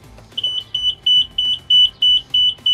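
A Keestrack K6 screen sounds its start-up alarm, a close, loud electronic beep repeating about eight times in a steady rhythm with no voices.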